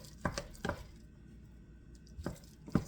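Boiled skin-on potatoes are stirred and mashed in a pot, a few soft knocks and scrapes of the utensil against the pot over quiet room noise.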